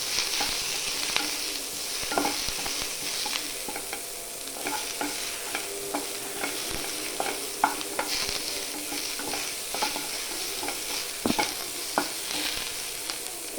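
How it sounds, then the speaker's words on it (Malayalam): Onions sizzling and frying in a pan with curry leaves, stirred with steady scraping and clinking of the spoon throughout, close and continuous with no talking, while cooking a green peas curry. "ഇനി ഇതിലോട്ട് ഉള്ളി ഒന്ന് നിറം മാറുന്നത് വരെ ഒരു ബ്രൗൺ കളർ ആവുന്നത് വരെ ഇതിങ്ങനെ ചിന്തിക്കൊണ്ടിരിക്കുകയാണ്"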